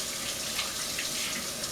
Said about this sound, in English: I'm going to rinse my hands again very quickly.